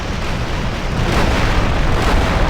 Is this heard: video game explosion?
yes